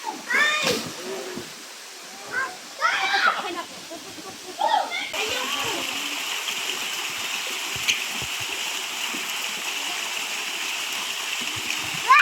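Water rushes in a steady, even hiss at a three-layer waterfall in Anawan. It starts behind a few short bursts of voices, then continues alone and unbroken.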